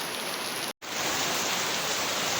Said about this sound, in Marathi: हे बघा पाऊस पडतोय